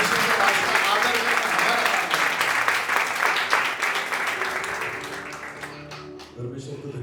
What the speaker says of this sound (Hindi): तो जोरदार ताली एक बार